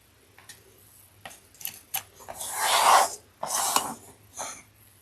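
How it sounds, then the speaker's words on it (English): A chalk pen drawing 3-inch marks on fabric for a bucket bag, heard as a few short scratchy rubbing strokes followed by two longer, louder rasping passes, close and alone. "we're going to draw 3-inch chalk marks"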